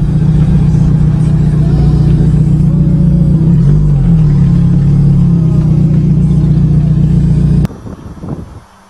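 A 1994 Chevrolet Cavalier being moved on a farm, its engine running with a steady loud low rumble and a brief rev midway, then cutting off near the end.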